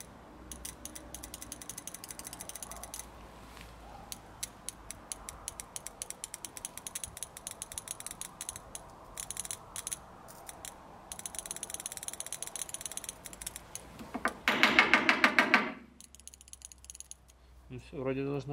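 A repaired fuel injector on a BMW E30 clicks in rapid, faint mechanical bursts, a dense ratcheting chatter that runs on and off, with a louder rasping burst near the end.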